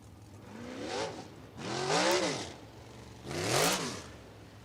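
USAC sprint cars roaring past on the dirt oval at Red Dirt Raceway during a hot lap session, loud engine passes rising and falling in pitch, with three distinct drive-bys swelling and fading.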